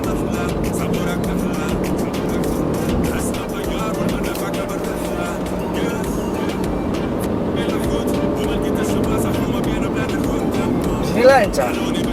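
Steady road traffic hum beside a stopped Mecca-Medina high-speed train line, continuous engine and tyre rumble with people talking over it.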